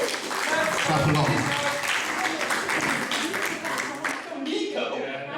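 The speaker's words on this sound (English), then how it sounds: "Clap along." A wrestling crowd at a live show in Cinderford claps along in a steady rhythm while voices shout and talk over it, the clapping fading somewhat toward the end.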